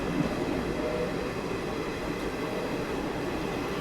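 A Humsafar express train runs steadily on its journey between Tirupati and Sainagar Shirdi, heard from inside the coach as a continuous low rumble and rail roar with no speech.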